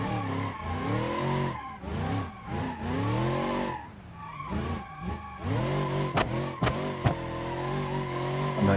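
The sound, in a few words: car drifting with tire squeal in BeamNG.drive video game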